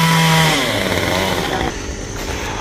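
A chainsaw cuts the top off a 26-metre golden oak (Sao) tree in Tien Giang, Vietnam, its engine screaming loud and steady, then dropping in pitch as it bites into the wood.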